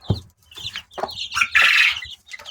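Two-week-old Araucana chicks and young cockerels peep and chirp up close, a scatter of short calls followed by one longer, louder shrill cheep.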